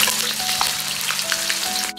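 Marinated pork slices sizzle in a wok of hot oil over medium heat, a loud, dense, steady crackle with a faint ringing tone and no talking.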